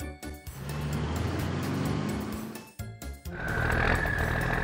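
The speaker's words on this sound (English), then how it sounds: "Cement mixer truck." A cement mixer truck's engine rumbles loudly and continuously, with a brief drop partway through before it rises again with a higher whining tone.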